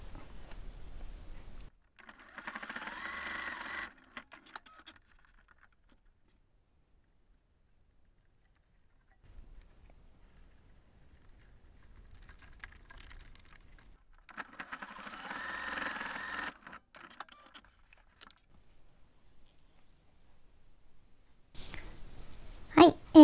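A sewing machine stitches a D-ring tab onto the opening of a fabric water-bottle pouch made from Daiso materials, running in two bursts of several seconds each with quiet pauses between them. A brief clatter comes near the end.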